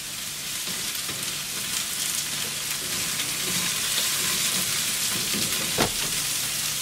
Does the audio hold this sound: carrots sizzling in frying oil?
yes